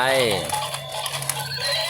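A horse whinnies loudly and close by in a descending, wavering call at the start, with a faint voice beneath it during an animal race game.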